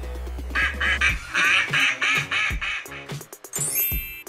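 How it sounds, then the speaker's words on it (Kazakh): A cartoon duck quacks in a Kazakh alphabet song, several loud, close nasal quacks in quick succession followed by a brief rising whistle-like sound at the end. "Үйрек."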